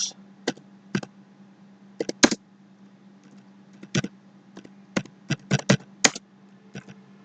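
Keys on a computer keyboard are typed in short irregular bursts of sharp clicks while entering a ledger name in accounting software, close and clear over a faint steady hum.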